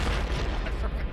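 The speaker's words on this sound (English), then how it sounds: "we don't have enough explosion sound bites on our show" An explosion sound effect played on a sports radio show: a dense, loud, continuous rumbling boom that fills the whole short stretch.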